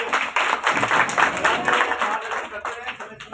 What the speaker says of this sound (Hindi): बहुत धन्यवाद, एक बार जोरदार ताली